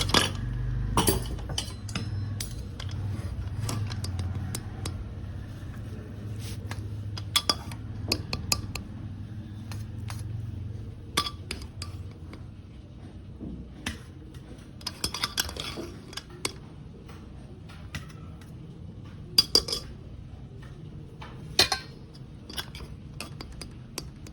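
Steady light clinking of plates, steel dishes and cutlery as food is laid out on a home dinner table, with scattered sharper clinks and taps over a low background hum, and no voices.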